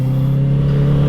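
Engine of a 2020 Honda CB650R motorcycle on the road as the throttle opens, a steady loud low drone that builds slightly over about a second, close by.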